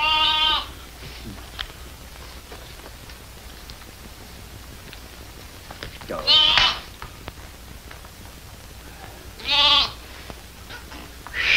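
Three loud sheep bleats spread several seconds apart, separated by a quiet outdoor background with faint rustling.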